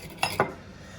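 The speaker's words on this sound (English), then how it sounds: "I need to get a fork and a knife." A fork and knife clink together twice in quick succession, close and crisp, then a faint room hush follows.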